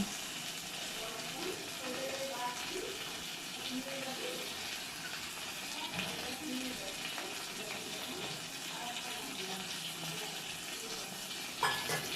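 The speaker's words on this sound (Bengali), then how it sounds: "এবার আমি দিয়ে দিচ্ছি জল।" Water added to cooked spice masala for Bengali rui posto sizzles and bubbles in the pan, with stirring and a steady close hiss continuing throughout.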